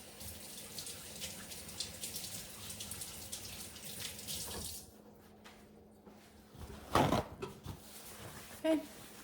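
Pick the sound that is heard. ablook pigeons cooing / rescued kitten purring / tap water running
tap water running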